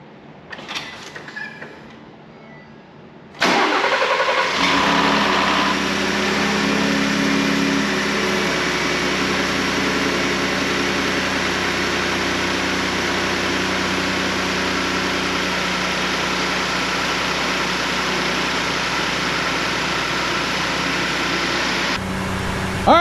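Ford F-150 engine after a cam phaser repair cranks briefly and catches, then settles into a steady, even idle that runs close and loud for about twenty seconds with no rattle and no talking.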